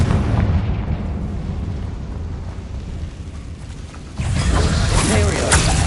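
A Confringo spell explosion in the Hogwarts Legacy video game, a loud, sustained rumbling burst with dense low roar that surges again into a fresh blast near the end.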